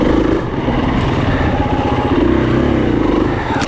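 KTM 350 enduro motorcycle riding through rough terrain, a steady close engine drone with slight throttle variations throughout, loud and without talk.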